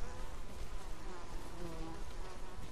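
Bees buzz in the video game Ghost of Tsushima, a steady, dense drone that holds at moderate volume throughout with no talk over it.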